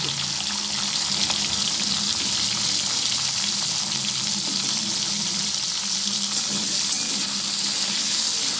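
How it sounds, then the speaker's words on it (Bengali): Potatoes frying in a pan with cumin seeds, bay leaf and slit green chillies for a crab curry, a steady, dense sizzle holding even and close throughout with no talking. "আলুগুলো আমি ভালো করে ভেজে নেব।"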